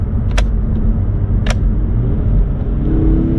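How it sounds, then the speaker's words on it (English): A manual transmission car runs under a steady loud engine rumble through two downshifts, with brief sharp clicks from the shift. No one speaks. "Let's do a downshift again. We're gonna do two downshifts."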